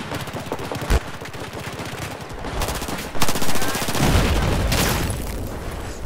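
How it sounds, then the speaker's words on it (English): Rapid automatic gunfire and single shots from a Battlefield 4 firefight on the Lost Islands map, dense and loud, with bursts throughout and a heavier boom near the end. "I'm getting shot from behind"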